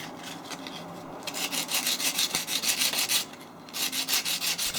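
Coarse-grit sandpaper is rubbed over a cast metal handle in steady, rapid back-and-forth strokes, close and scratchy, with a short pause before the rhythmic sanding resumes; no one talks.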